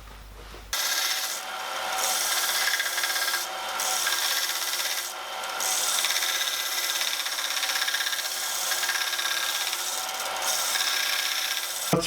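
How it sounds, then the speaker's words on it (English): Steady hand filing on a metal part for a 5-inch-gauge model steam locomotive smoke box, a continuous rasping stroke-by-stroke scrape close up in a workshop, with no talking. "That's pretty close, so I can now use the actual smoke box as the template to finish filing this up."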